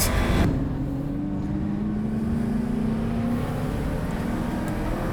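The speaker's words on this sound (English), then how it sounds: "get on the power like he's doing here and take out that pushrod V8" A Mustang road race car's pushrod V8 accelerates hard, its steady droning roar climbing slightly in pitch as it pulls away, loud and close throughout.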